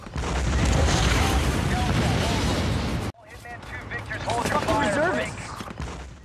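Gunfire in a war film battle scene set during the First Recon Marine advance into Baghdad, dense loud bursts of shooting and booms, broken by a brief cut, with voices shouting over the later shots.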